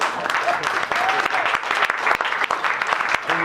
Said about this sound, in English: It's a smattering of applause